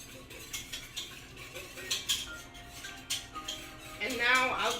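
A metal whisk clinks and scrapes steadily around a pot of melted butter on the stove while mac and cheese is being made, in short rhythmic strokes with a faint sizzle underneath.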